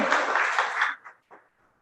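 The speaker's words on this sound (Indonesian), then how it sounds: "tepuk tangan dulu dong buat pengacara saya ini" An indoor audience gives a short burst of applause for a lawyer at a business sharing night, loud and dense, then breaking off into a couple of scattered last claps.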